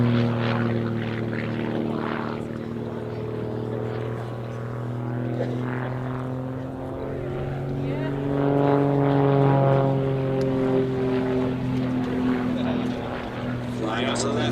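Grob Tutor propeller trainer flying a loop at the Duxford Battle of Britain airshow, with a steady droning engine hum whose pitch rises and falls through the manoeuvre, heard at a distance under a commentator talking over the public address.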